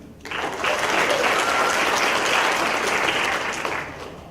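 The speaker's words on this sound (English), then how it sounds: "You can clap and cheer." Audience applause at a 2015 federal election debate in Terrace for the Bulkley-Skeena riding, rising quickly into sustained full-room clapping that stays level before easing off at the end.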